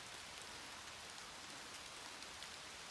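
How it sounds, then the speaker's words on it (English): Steady rain pours down on a mountain trail on Mount Cube in Vermont, a dense, even hiss of drops on the surface that holds without a break throughout, with no talk. "I didn't know it was supposed to rain, but here it is."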